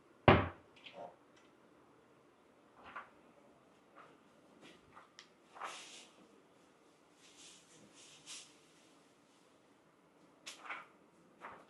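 A small drawer in a modest hotel room in Weihai, China, opened by hand: a few faint, scattered wooden bumps and clicks in a quiet room, close by, with no talk.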